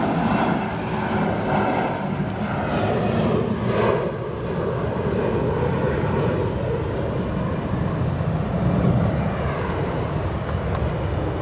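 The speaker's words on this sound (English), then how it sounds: "As we come over, we have another departure here on runway 28 left, 28 right" A jet airliner departs from a runway at O'Hare Airport, heard as a continuous loud roar of engines with broadband rumble that stays steady and slowly shifts as the plane climbs away.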